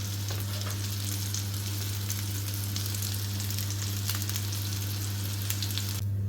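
Meatballs sizzle steadily in a hot pan, a constant crackling fry over a low electrical hum, with occasional sharper pops.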